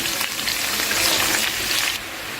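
Vegetables going into a pan of cooking pulses for a Patrali festival dish, a dense hissing sizzle that holds steady and then eases slightly near the end, with no voices.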